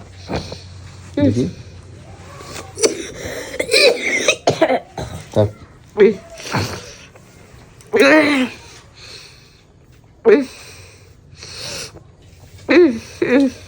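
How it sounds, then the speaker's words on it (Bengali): Someone who is unwell coughs repeatedly in harsh, close bursts spread across the stretch, with short pauses and a throat-clearing rasp between the fits. "আর হঠাৎ এত কাশি হচ্ছে"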